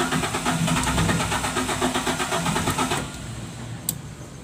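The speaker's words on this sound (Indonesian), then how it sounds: "Ini diganti dengan generator yang lain. Kita coba starter lagi." An electric generator is started, cranking with a rapid, rhythmic mechanical churn for about three seconds before cutting off and leaving a quieter hum and a sharp click.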